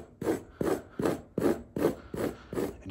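Flattened carpet is scrubbed to loosen its fibers, making a rough rasping stroke roughly every half second in a steady back-and-forth rhythm, close and moderately loud, with no talking.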